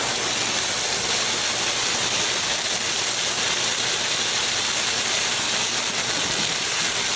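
Brandy flames and cooks off in a pan of shrimp and scallops, a loud steady sizzling hiss with crackle that holds unbroken for several seconds.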